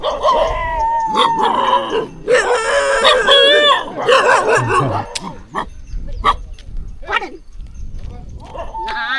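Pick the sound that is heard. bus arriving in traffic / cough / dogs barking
dogs barking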